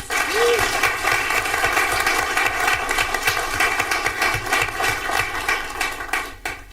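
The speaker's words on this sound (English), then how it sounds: "So I just want to give them another round of applause." A school board meeting audience gives a round of applause, a dense steady clapping that carries on for several seconds over a constant background hum.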